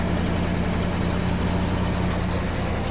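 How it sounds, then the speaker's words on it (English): A 1967 Ford Custom's 427 V8 idles steadily through its factory exhaust with a deep, even rumble and low exhaust burble, close by and continuous with no voices. "That's the factory exhaust too"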